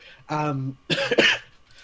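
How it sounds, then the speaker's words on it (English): A man coughs twice in harsh bursts at close range, a throaty rasp followed by a sharper double hack. "I'm having a great deal of difficulty talking without bursting out into coughing fit"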